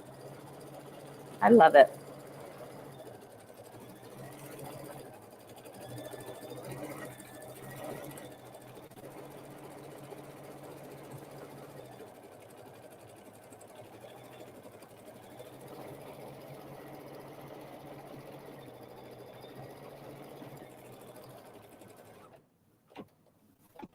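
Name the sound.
sewing machine doing background quilting stitch-out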